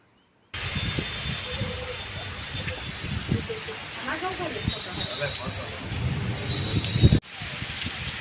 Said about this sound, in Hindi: बारिश बस हल्की हल्की बूंदाबांदी तो शुरू हो भी गई थी